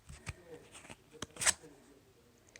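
A deck of tarot cards being shuffled gives a few soft riffling flutters and taps, close and fairly quiet, with one sharper burst in the middle.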